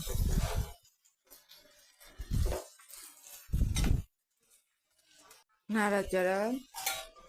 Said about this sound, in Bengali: সবজিটা দিয়ে এখন একটু নাড়াচাড়া করে দিতে হবে। এইভাবে আমরা নেড়ে চেড়ে দিলাম।